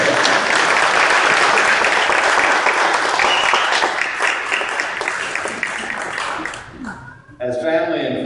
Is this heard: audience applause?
yes